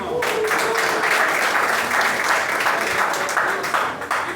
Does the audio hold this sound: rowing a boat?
no